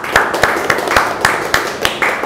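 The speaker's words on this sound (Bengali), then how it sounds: "সবাই একটা হাতের তালি দেয়।" A group of trainees standing at a training session clap their hands together in a steady, evenly spaced rhythm of about eight sharp, loud claps in unison, with no talking over them.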